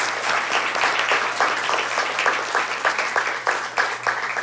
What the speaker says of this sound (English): I'd like to give a round of applause to our speakers